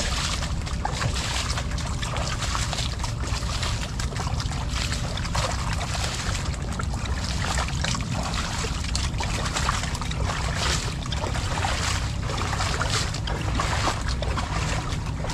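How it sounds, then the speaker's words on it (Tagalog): Water pours steadily over a plant bed until it overflows and soaks the surface, a continuous broad rushing wash with no breaks, heard close and fairly loud without voices. "Nahayaan natin umapaw para matigmak yung ibabaw."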